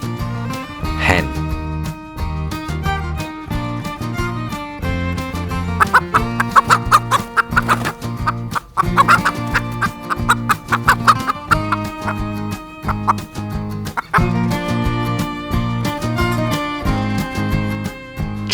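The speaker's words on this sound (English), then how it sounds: "hen," A hen clucks amid a bright farmyard nursery tune, its calls mixed into steady music with a strong beat, recurring in short bursts over about eighteen seconds.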